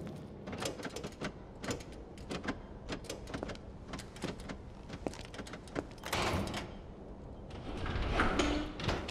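Door being forced open in The Evil Within, a series of scraping, clattering and banging strains with irregular knocks, fairly quiet and close, without talk.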